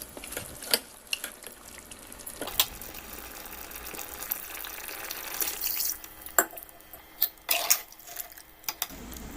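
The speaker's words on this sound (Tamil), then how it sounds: "தேங்காய் பால் எடுத்து வச்சுருக்கோம் அதையும் உள்ளே சேர்த்துக்கிடுவோம்" Coconut milk pours and splashes into a simmering pot of chicken curry, with scattered clinks of a utensil against the pan and a steady bubbling hiss underneath.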